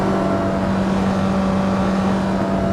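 A Honda S2000 engine drones steadily at full throttle uphill in the Assetto Corsa EVO racing game, a loud, constant high-revving tone with no talk.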